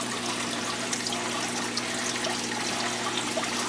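Aquarium water siphoned by a gravel vacuum from a deep sand bed tank pours steadily into a half-full bucket, a continuous close gurgling rush with a low hum underneath.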